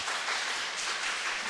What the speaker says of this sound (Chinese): 所以大家可以给她一个掌声吗？